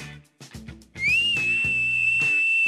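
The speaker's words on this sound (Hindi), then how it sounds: "क्या तुम चाहते हो कि मैं तुम्हें दिखाऊं कि सीटी कैसे बजाते हैं?" A loud, sustained human whistle holds one steady high note for nearly two seconds, rising in pitch at the start, with short clicking and shuffling sounds just before it.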